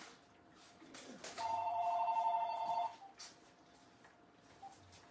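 A telephone rings indoors with a single sustained electronic ringing burst of about a second and a half, fairly clear over quiet room background with faint movement before and after.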